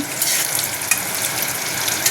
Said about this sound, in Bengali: বেগুন ভাজছি